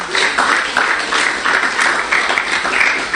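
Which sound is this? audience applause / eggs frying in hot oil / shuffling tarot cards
audience applause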